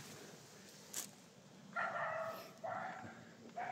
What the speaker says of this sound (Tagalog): Naalarmay ng mga dogs.